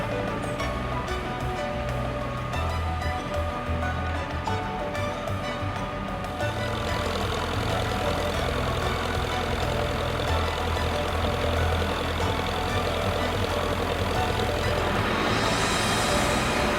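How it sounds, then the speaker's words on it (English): An apple harvester's engine drones steadily as the machine works the rows of an orchard, a continuous loud mechanical rumble with a slight shift in tone partway through. "The harvester goes through the rows picking up the most accessible apples."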